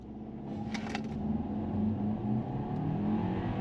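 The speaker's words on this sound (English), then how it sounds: "see what this thing can do accelerating in sport mode from a full stop" A 2024 Hyundai Kona Limited AWD turbo accelerating from a full stop in sport mode, heard from inside the cabin as a steady engine hum that rises and holds, with a brief rustle near the start.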